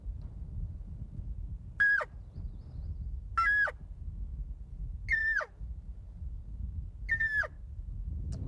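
A game call imitates a lost elk cow's desperate call: four evenly spaced, sharp nasal mews, each falling at the end, close and clear over a steady low rumble.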